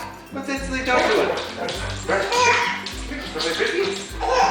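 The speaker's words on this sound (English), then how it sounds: "What's that silly dog doing?" A pet dog barks and yips in a lively home with a baby and children present, several short loud barks scattered through the stretch, mixed with a voice and other chatter.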